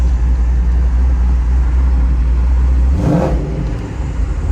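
A cammed Chevrolet Silverado / GMC Sierra pickup idles at a traffic light, its V8 loping with a steady, choppy low rumble close by, then briefly rising in a short rev near the end.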